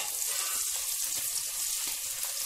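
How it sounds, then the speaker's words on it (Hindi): Chopped onions fry in hot oil for an egg biryani, giving a steady, dense sizzle with a continuous bright hiss and no talking. "अब हम इसमें डालेंगे प्याज, तो हम प्याज को डाल देंगे और इसे अच्छे से फ्राई करेंगे"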